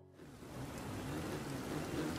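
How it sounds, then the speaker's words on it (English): Steady, dense rain hiss from the MXGP 3 motocross video game, heard during the final race of a season at Glen Helen, building slightly and holding at a constant moderate level with no talking. "It had to rain on the final race of season one."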